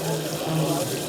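A steady hiss of water spraying from a pressure sprayer at full pressure at a hardware trade show in Las Vegas, continuous and close, with a faint voice underneath.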